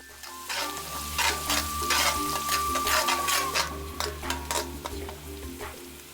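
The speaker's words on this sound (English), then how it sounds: "Then the garlic. Saute gently, low heat," Garlic sautéing gently over low heat in warm olive oil with crushed coriander and cumin, a steady close sizzle with soft stirring scrapes throughout and a faint hum underneath.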